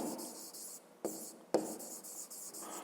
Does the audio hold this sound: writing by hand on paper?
yes